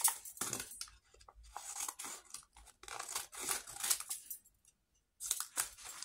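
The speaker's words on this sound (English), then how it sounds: "Even I may have to cut that strip in half." Scissors cut a strip of gel-printed paper in repeated crisp snips and rustles, close and fairly quiet, with short silent gaps between cuts.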